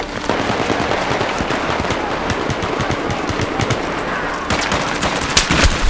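Gunfire in Battlefield 3 at Talah Market in Gun Master mode, as dense rapid bursts of automatic shots with sharp cracks, loud and close, continuing throughout without talk.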